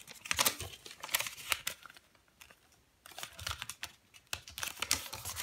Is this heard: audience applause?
no